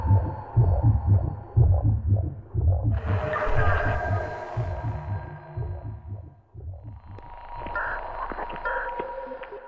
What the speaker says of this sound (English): In the end, a heartbeat becomes increasingly louder